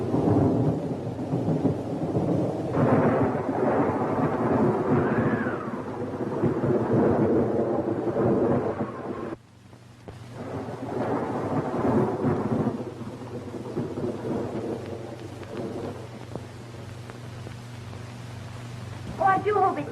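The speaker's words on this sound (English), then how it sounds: "Oh, I do hope it stops raining before Mr. Frank's train gets in." Rain and a thunderstorm in a 1930s radio drama setting, a steady wash of rainfall with low rumbling thunder running underneath, heard beneath dialogue from several voices, with a brief dip in the middle.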